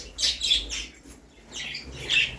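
Jumbo budgerigars in a pet shop, close, bright bursts of chattering chirps and tweets from several birds, rising and falling in short clusters; no talking.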